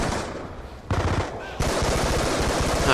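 Automatic gunfire in a Call of Duty Black Ops 2 multiplayer match sounds as fast, loud rattling bursts, with a short quieter stretch before the shooting resumes hard and continuous.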